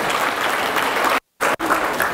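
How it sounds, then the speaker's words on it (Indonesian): Seminar audience applauding loudly and steadily, the clapping cut by a brief silent gap near the end before resuming. "tepuk tangan buat Wirda"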